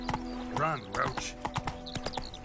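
Roach, Geralt's horse in The Witcher 3, runs with quick rhythmic hoofbeats throughout, while a voice speaks briefly over the galloping near the start.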